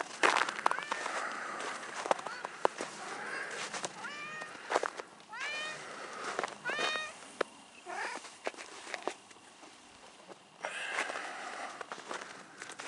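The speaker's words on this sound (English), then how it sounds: "cat talking in the background here." A cat meows repeatedly in the background, several short rising calls spaced through a quiet indoor room, fairly faint with soft shuffling between them.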